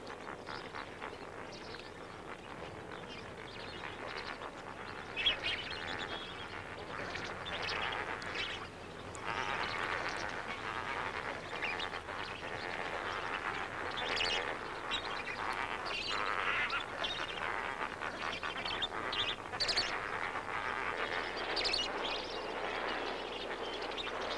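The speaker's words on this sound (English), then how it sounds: "there are those most ancient of birds, flamingos" A large flock of lesser and greater flamingos at Lake Bogoria, a caustic soda lake in the Rift Valley, keeps up a dense, steady honking and gabbling chorus for the whole stretch, with no talk.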